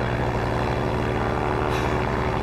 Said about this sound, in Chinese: 飞机空投粮食了